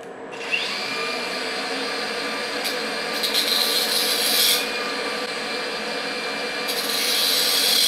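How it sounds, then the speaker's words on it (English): Grinder wearing away the metal shoulder of a spark plug, a continuous harsh abrasive rasp with brief brighter surges, steady and close, no voices. "the best way of opening these is to grind away that shoulder, and then this part will just come out"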